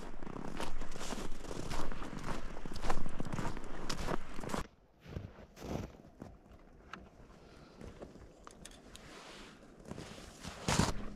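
Footsteps crunch steadily outdoors, loud and close at first, then softer and more scattered against a quiet open-air background.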